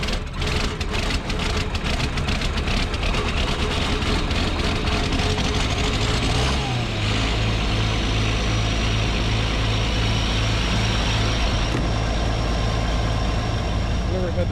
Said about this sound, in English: get the engines warmed up because these diesels do not want to start when it gets cool